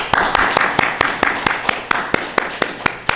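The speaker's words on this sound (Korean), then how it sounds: "박수를 힘차게 보내도록 하겠습니다" A church congregation claps in steady unison, sharp evenly spaced claps repeating about five times a second, close and crisp, with a faint murmur underneath.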